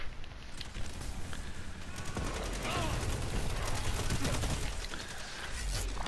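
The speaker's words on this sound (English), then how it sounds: "Ow, shotgun." Gunfire in Destiny 2 Crucible PvP combat, a continuous dense stretch of shots and impacts with footsteps mixed in, loud and close throughout.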